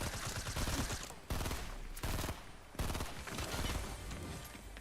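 Fortnite gunfire rattles in dense rapid bursts, loud and close, broken by brief gaps between volleys, with no clear talking.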